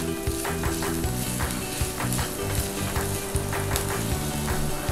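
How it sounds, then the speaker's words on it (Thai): Onions stir-fried in a hot pan for minced pork, a loud continuous sizzle with scraping stir strokes and clinks of the utensil against the pan, close and steady throughout. "เราก็จะผัดหอมใหญ่ให้สุกก่อนนะคะ"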